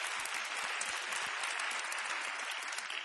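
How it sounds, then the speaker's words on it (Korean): A church congregation gives a round of applause, a continuous wash of clapping from many hands, fairly close and steady for the full stretch with no talking over it. "Let's give them a hand."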